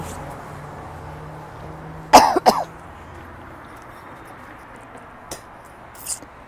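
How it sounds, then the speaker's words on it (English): A couple of sharp coughs close by, one right after the other, then a quiet stretch with only faint room noise and a small rustle. "I've been coughing a lot up from my lungs"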